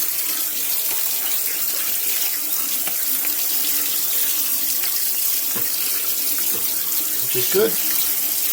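Tap water pours steadily into a sink while something is rinsed, a constant close splashing rush that lasts throughout, with a brief spoken remark over it.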